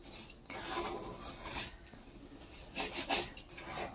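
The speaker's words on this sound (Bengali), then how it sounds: "এখন আমি চিনিটা একটু খুন্তি দিয়ে নাড়বো" A spatula scrapes and rubs against a pan while sugar melts for a plum cake, a soft continuous stirring sound with gentle swells, close and fairly quiet.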